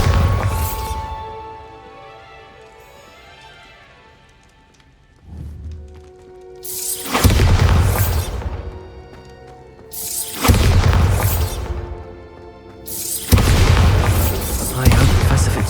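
Explosions from a bombardment in Hogwarts Legacy, with three loud, booming blasts spaced a few seconds apart, each with a rumbling tail, following a quieter stretch of ambience.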